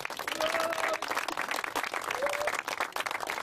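A crowd at Butlins Barry Island gives a hearty round of applause, dense overlapping clapping that stays loud and lively for the whole few seconds, with faint voices mixed in.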